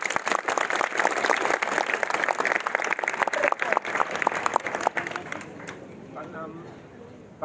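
An audience applauds a doctor at a resident doctors' association meeting, dense clapping for about five seconds before fading out, with voices talking over and after it.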